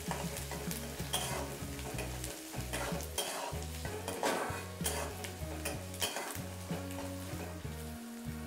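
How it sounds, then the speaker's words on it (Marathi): Finely chopped onions sauté with curry leaves in a pan over a medium flame, a steady close sizzle broken by repeated scraping and clinking of a spoon stirring against the metal. "तर हे व्यवस्थित असं परतवून घ्यायचं."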